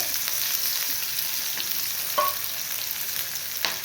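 Cumin, onion and finely chopped green chilli frying in oil for Kolhapuri misal, a continuous dense sizzle with occasional light scrapes and taps of a spoon against the pan.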